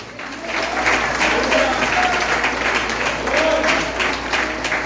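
A church congregation at a family service applauds steadily and loudly for several seconds, a dense wash of clapping hands filling the room, with faint voices mixed in.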